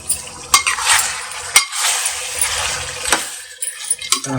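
A spoon scrapes and stirs chilli powder through frying village-style farm chicken curry in a pan, quick metallic scrapes and clinks over a steady sizzle, close and loud.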